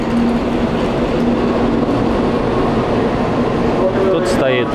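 A Shinkansen high-speed train pulls into a station in Japan, rumbling steadily close by, its broad mechanical roar filling the air with a brief higher squeal near the end, under faint talk.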